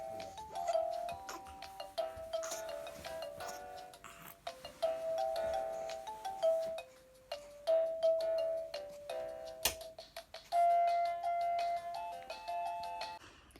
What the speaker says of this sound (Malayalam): ഇപ്പോൾ പൊന്നൂനെ നമ്മൾ മൊബൈൽ ബെൽസ് വെച്ച് കളിപ്പിച്ചപ്പോൾ ഉണ്ടായിരുന്ന കുറച്ച് റിയാക്ഷൻസ്